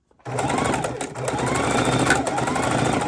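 A sewing machine stitching a fabric soup bowl cozy runs in a steady, close, continuous whir after a brief start, with a faint voice in the background.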